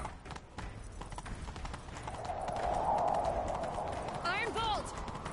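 Horses' hooves clip-clop in a quick galloping rhythm through a video game scene as riders give chase, with a brief whinny near the end and faint voices in the background.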